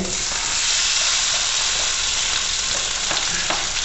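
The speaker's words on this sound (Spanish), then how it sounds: "Agregamos cebolla nuevamente a nuestra sartén." Onion frying in a pan, a loud dense continuous sizzle and hiss close by, with faint stirring ticks near the end.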